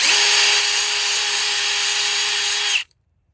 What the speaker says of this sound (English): So let's just keep drilling a little bit more.